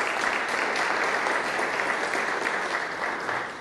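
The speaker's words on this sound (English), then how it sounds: "I think they deserve a round of applause this morning." A church congregation at a morning liturgical service gives a round of applause, a dense, close, even wash of clapping that holds steady and fades slightly at the end.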